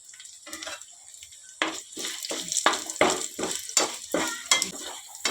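Curry leaves and three chopped dried red chillies fry in hot oil for a tempering, a steady close sizzle with bursts of crackle and spitting, no voices.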